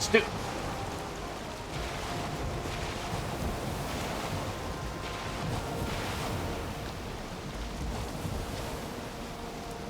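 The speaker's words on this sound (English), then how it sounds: "I've never known waves like that" Ocean waves surge and wash continuously in the game Valheim while a boat sails fast, a broad roaring wash with wind noise and a brief knock at the start, loud and steady for ten seconds.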